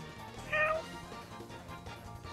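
A cat meows once in the Garry's Mod game, short and fairly loud, with a brief rising tone above a busy backdrop of game noise and chatter.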